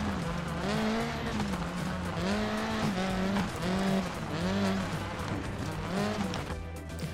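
Citroën C4 rally car driven in the Dirt Rally 2 game on a gravel stage in Catamarca, Argentina, its engine revving up and down through gear changes with tyres scrabbling and squealing, loud and continuous throughout.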